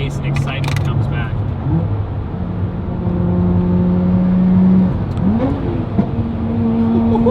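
A Nissan R34 GT-R with universal valved mufflers open and a free-flow downpipe rumbles deep and bassy at idle, then revs up and drops back near the end, heard close with a steady throaty drone.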